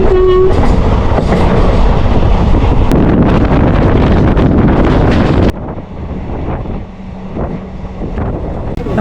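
An electric passenger train on the Nilambur line roars loudly and continuously with heavy wind buffeting, the rumble dropping abruptly to a quieter, duller tone partway through; no one speaks.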